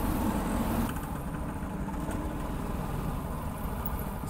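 A motorcycle engine idles steadily in city traffic on a jammed road, a continuous low rumble that stays close and fairly even throughout, with no talking.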